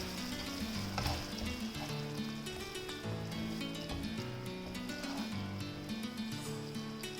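Lobster curry masala sizzles steadily in a pan while being stirred, a continuous frying hiss with soft scraping under a faint musical background, no talk.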